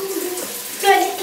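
Water pours steadily into a bathtub as a child is being bathed, a continuous broadband rush that swells louder toward the end, with faint voices mixed in.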